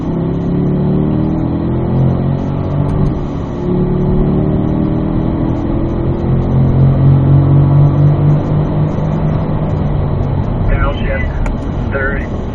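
Chevrolet Corvette on a cone-marked driving course, its engine rumbling and climbing in pitch as it accelerates, steady and prominent, with a voice talking over it.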